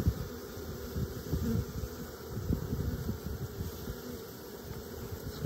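Honeybees hum and buzz at an opened hive in March, a continuous close insect drone with small irregular bursts.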